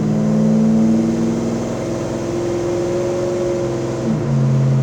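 A 1969 Chevrolet Chevelle SS V8 with a cam and TH400 automatic pulls hard from inside the car, its steady loud drone climbing before dropping sharply at a gear shift, then rising again.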